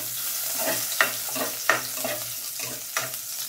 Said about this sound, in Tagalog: Sumutang ko na gali mga bor ang sibuyas kag bawang.